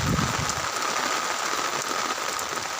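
Heavy rain falling, a dense, even hiss of drops striking surfaces, steady and fairly loud throughout with no pauses.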